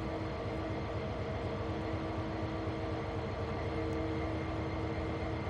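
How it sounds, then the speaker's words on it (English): Steady low rumble and drone of a train being parked in the Train Sim World 3 video game during chemical switching, a continuous engine hum with no distinct events. "looks like we're going to go and park this train up now"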